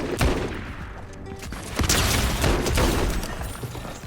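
Rapid gunfire in a Fortnite match: a dense burst of loud shots and impacts, some nearby and some overlapping, with no talking.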